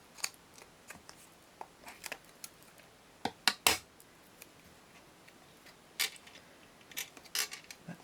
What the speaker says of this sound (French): On va couper des petits bouts.